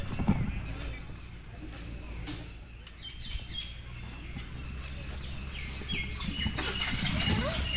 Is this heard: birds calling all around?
yes